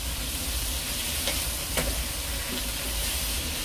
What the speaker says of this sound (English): And stir fry a bit more.